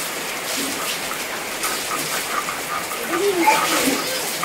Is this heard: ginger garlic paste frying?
no